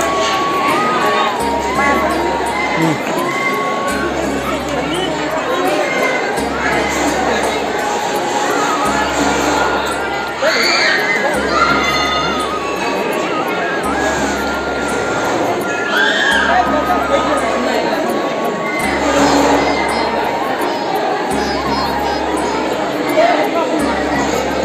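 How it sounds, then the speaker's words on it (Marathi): Dense, loud, continuous din of a pilgrim crowd at Jivdani temple, a constant wash of overlapping chatter and shouts, with a regular low thumping beat running underneath throughout. "किती सारी गर्दी आहे ना"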